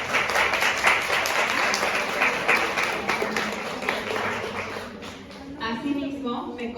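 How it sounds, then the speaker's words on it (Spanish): Audience at an academic conference applauding a speaker with dense, steady clapping that fades after several seconds, as a voice begins to talk. "Por favor, les pido un aplauso para el doctor."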